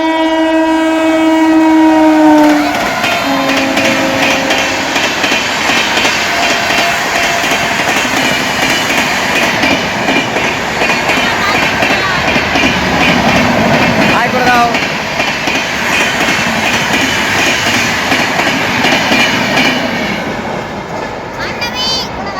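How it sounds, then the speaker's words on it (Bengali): A train horn sounds at the start at Balichak station, then a train rushes through at speed with loud, continuous rumble and rattle for about twenty seconds, a voice talking briefly over it. "দেখো একটা স্পিডে ট্রেন আসছে"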